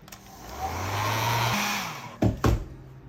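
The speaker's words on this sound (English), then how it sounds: "I'm going to use my handy dandy hairdryer." A hair dryer whirs steadily, its motor pitch rising and settling, then a couple of clunks as it is switched off and set down.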